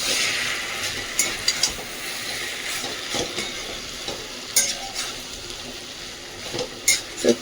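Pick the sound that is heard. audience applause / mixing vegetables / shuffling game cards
mixing vegetables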